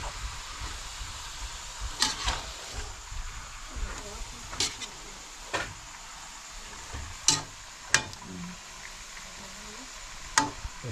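Fish adobo in coconut milk being stirred and left to boil in a pot, a steady bubbling, sizzling hiss with sharper scraping knocks of the utensil every second or two, close and fairly loud.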